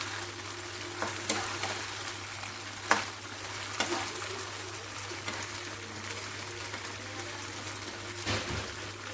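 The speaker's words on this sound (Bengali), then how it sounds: "ভাজাটা কিন্তু লো ফ্লেমে করে নিতে হবে, আর একসাথে সব দেবে না, অল্প অল্প করে ভেজে নেবে" Paneer cubes shallow-frying in a pan on a low flame, a quiet, continuous sizzle with a few crackles and utensil taps as the pieces are turned, close and soft.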